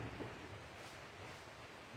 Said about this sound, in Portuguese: Deus seja louvado por essa chuva maravilhosa.